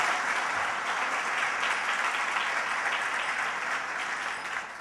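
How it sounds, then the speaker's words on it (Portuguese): A church congregation applauds in a continuous, even wash of many hands, heard from some distance and fairly soft, easing slightly toward the end. "Aplauda Ele, aplauda Ele."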